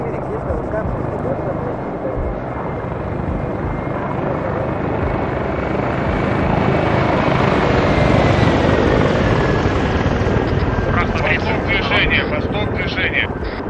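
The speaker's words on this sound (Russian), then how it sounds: "Вертушка заходит. Вертушка идет север на юг." Helicopter flying overhead in the video game Arma 3, a loud continuous rotor chop and engine roar swelling as it passes close, with radio-style voices talking over it.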